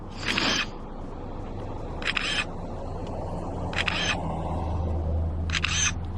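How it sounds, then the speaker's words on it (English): A mapping drone's camera fires its mechanical shutter four times at regular intervals of roughly one and a half seconds while flying at 250 feet. Each sharp click stands out over the steady hum of the drone's motors. "Mechanical shutter."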